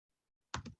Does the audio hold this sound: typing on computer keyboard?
yes